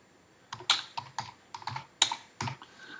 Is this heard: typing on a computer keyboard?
yes